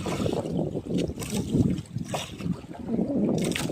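Gusty wind buffets the microphone over sloshing waves, rough and uneven, with choppy water slapping nearby at sea.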